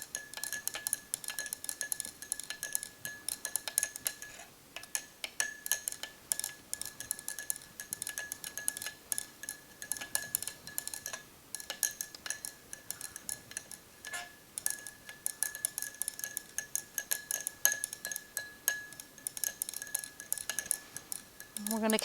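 Copper oxide solution being stirred and heated in laboratory glassware: a steady run of fine ticking and light glassy clinks, fairly close, over a thin constant high whine.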